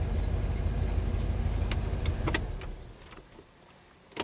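A 1967 Chevrolet El Camino idles with a low steady rumble just after starting, heard close, then quietens as a few clicks and knocks follow near the end.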